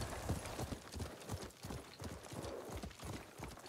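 Horse hooves pound in a steady, rapid galloping rhythm in the video game Ghost of Tsushima, close and continuous, with no other sounds standing out.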